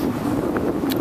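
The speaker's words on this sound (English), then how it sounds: "It is so windy." Strong wind buffets the microphone outdoors on a cold run, a steady loud rumbling roar with no speech over it and no gaps for the whole second.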